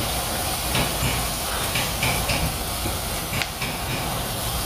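Garlic dropped into a pan of browned onion for caldo verde, giving a steady close hiss and sizzle that fills the whole stretch, with faint clinks of cooking but no talk.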